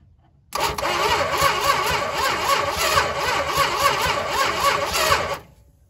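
A 1971 Dodge Charger Super Bee engine cranking with the starter as it tries to fire, a steady, loud, rhythmic churn lasting about five seconds before cutting off.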